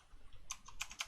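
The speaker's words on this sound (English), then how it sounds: "And here I will type in" Quick, light keystrokes on a computer keyboard tap out a short burst of about six clicks, close and fairly quiet, with a soft background hiss.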